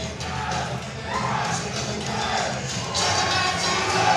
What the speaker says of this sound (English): Crowd's loud too.